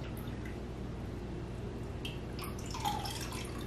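Strawberry scrap vinegar drips and trickles faintly as the fruit is strained out, with a few soft splashes over a steady low background hiss and no talking.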